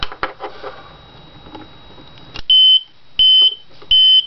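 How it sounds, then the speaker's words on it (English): A homemade fire alarm buzzer sounds three loud pulsing high-pitched beeps in close succession, each about a quarter second long, after a stretch of quiet handling clatter and small knocks. "if you've got power, you get a pulsing, very loud buzzer"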